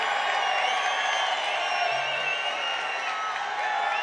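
A big crowd at a Trump campaign rally in New Mexico sends up a distant, steady wash of cheering and murmur, faint and sustained throughout without a clear individual voice.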